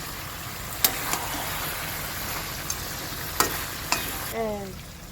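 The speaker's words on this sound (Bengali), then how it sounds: "মাঝখানে তেলে একটু কষাইতে একটু চিনি দেবো মাংসের কালার আসবে" Chicken meat sautés in oil in a home kitchen pan with a little sugar added for colour, a steady broad sizzle with a few clacks of a stirring utensil, and no voices.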